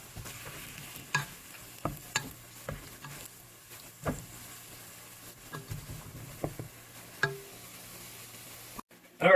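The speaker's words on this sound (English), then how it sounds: "Onions are starting to saute. So we're going to stir this around." Onions sautéing in a pot for a moose stew, a spoon stirring with intermittent scraping knocks and a soft low sizzle, close and fairly quiet, with no talking.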